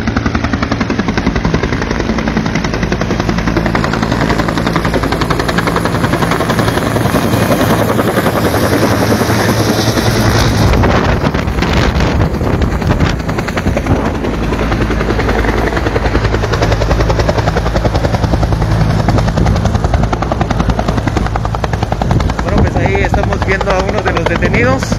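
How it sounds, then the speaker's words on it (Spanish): A loud helicopter's thudding rotor and engine roar fills the air continuously, growing stronger as it approaches over a field in Mexico, with voices faintly underneath. "ahí podemos ya observar a los helicópteros que se vienen acercando aquí en el campo"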